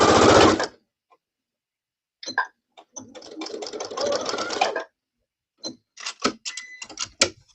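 A sewing machine stitching dress patterns starts with a short loud burst, falls silent, then runs in brief uneven spurts broken by clicks and pauses, fairly close.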